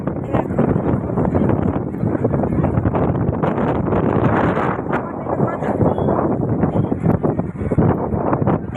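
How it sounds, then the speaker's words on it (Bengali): Strong wind roars steadily across the microphone on Digha beach, a dense, continuous rush with no letup, while voices sound faintly underneath. "প্রচুর হাওয়া হচ্ছে, প্রচুর।"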